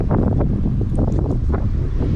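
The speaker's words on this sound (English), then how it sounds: "It's quite windy." Wind gusts buffet the microphone during a cycling break in the French Alps, a loud, rough, rumbling roar that surges and eases without pause.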